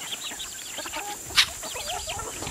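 Hens clucking on a farm on a Sunday morning, a flock of close, busy birds chattering in overlapping murmurs with one sharp brief call standing out.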